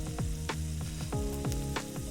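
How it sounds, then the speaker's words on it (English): Salmon fillet frying in butter and olive oil in a stainless steel pan, a steady close sizzle and bubbling crackle with repeated scraping, stirring strokes over it, no voices. "we're getting some nice bubbling going on there."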